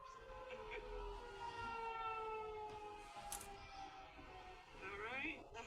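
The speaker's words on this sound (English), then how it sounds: "that was the sirens. Hope you guys enjoyed hearing a warning test from Oklahoma." Test of an Oklahoma tornado warning siren: a sustained, wailing civil-defense tone that rises and falls steadily over the whole stretch. It sounds fairly distant, with voices talking faintly beneath it.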